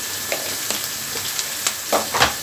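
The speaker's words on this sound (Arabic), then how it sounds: "هنجيب على الحمص بيغلي اهو جميل" Chickpeas bubbling in a pot of boiling water, a steady soft hiss with scattered light pops and burbles, close and fairly quiet, with no voices.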